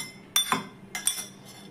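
Ground spices and cooled tomato tip into a glass blender jar, giving a few light clinks and taps spaced over a couple of seconds, quiet and close.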